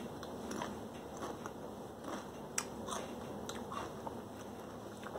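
Crunchy bites and chewing of Torres Selecta caviar-flavoured potato chips, close and fairly quiet, with several crisp snaps spread across the stretch and no talking.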